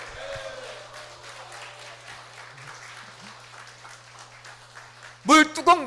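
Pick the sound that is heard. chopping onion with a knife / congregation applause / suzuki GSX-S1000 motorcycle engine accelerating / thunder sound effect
congregation applause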